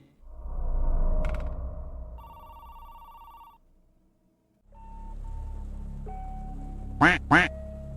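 After an electronic ringing tone and a pause, two loud, close duck quacks burst out in quick succession near the end, in the video game The Apartment.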